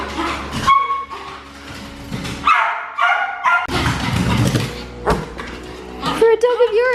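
A family dog named Sally barks a few times in a home, close by, between and under people talking.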